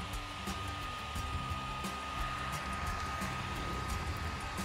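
The small cooling fan on a phone cooling case runs with a steady whir and a thin constant whine, close and unbroken, with no speech.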